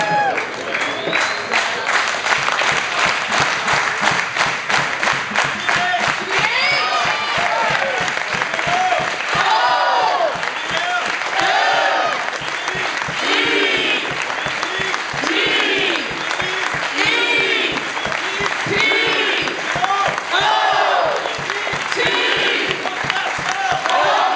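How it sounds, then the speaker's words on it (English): Crowd at a Home Depot grand opening in Fullerton doing a cheer led by Fullerton High School cheerleaders, with rhythmic shouted chants and clapping in repeated bursts, loud and sustained throughout. "help lead all of you guys in a Home Depot cheer, and our Fullerton High School cheerleaders are going to help us out"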